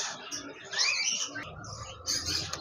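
A caged pair of red-eyed cockatiels, an albino male and a lutino, gives several bright, short chirps and whistles in quick bursts at close range, with no talking.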